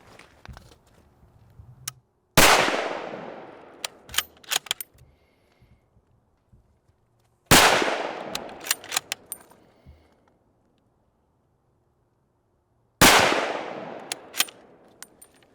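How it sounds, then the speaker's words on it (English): Three sharp, loud rifle shots from an Icon bolt-action rifle chambered in .308, spaced about five seconds apart, each ringing out with a long decaying echo across an outdoor range, with small clicks and handling noises between shots. "This is the Icon, came out in 2007, and shooting this in .308 caliber. Let's put our first shot downrange."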